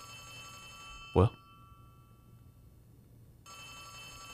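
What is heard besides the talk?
telephone ringing in Poppy Playtime Chapter 3, video game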